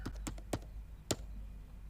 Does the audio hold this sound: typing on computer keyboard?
yes